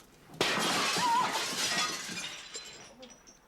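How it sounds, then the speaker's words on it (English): A brick smashes through a glass window, one sharp crash followed by a spray of shattering glass that tinkles and fades over about three seconds. "Surely people don't really throw bricks through windows."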